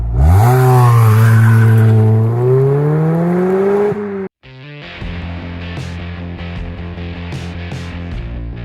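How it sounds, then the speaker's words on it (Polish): A Ford Focus engine and exhaust during exhaust tests: a loud revving engine climbing and holding pitch, then a brief cut to silence, followed by a steady, buzzing idle-like drone. "zobaczcie jeszcze testy, które robił Bartosz z różnymi wydechami."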